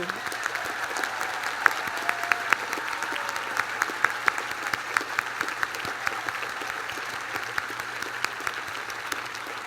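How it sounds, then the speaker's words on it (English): A large crowd at a 2022 Reed College commencement ceremony applauds the graduating class, a steady, even wash of many hands clapping that holds for the full stretch at moderate distance without letup. "let's clap for this class of 2022"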